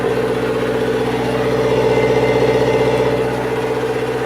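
A Toyota 720 pickup engine runs steadily after a hard start, a loud, close, even mechanical drone with a faint rhythmic pulse and no change in speed.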